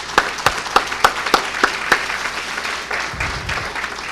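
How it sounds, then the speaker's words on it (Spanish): A panel discussion audience gives a round of applause: a handful of sharp, evenly spaced claps ring out over a steady wash of clapping that thins toward the end, with a low rumble underneath. "quisiera dar un aplauso para todos ustedes y para ellos."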